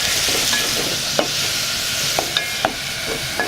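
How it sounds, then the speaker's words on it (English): Onions and carrots stir-fried in oil for a prawn curry on Lamu Island, Kenya, a loud continuous sizzle broken by several spatula scrapes, with no one talking. "she first stir-fried some onions and carrots and caramelized them in some oil"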